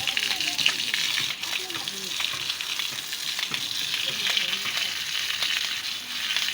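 Food fries in a pan in a village kitchen, giving a continuous crackling sizzle with scattered stirring noises, while faint voices murmur in the background.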